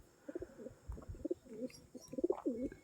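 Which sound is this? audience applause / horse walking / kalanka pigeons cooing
kalanka pigeons cooing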